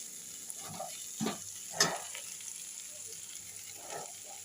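Seed banana curry being sautéed with coriander and cumin powder, heard as a soft, steady sizzle broken by a few brief scrapes and stirs of a spoon against the pan, with no talking.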